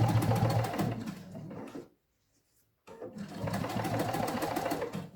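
A sewing machine stitches fabric in steady, rapid bursts, running loud and close before stopping for about a second of silence, then starting up again.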